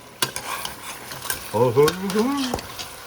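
A spoon stirring meat in a pot, with scraping clinks and knocks against the pot over a low sizzle, close up, and a voice speaking briefly partway through.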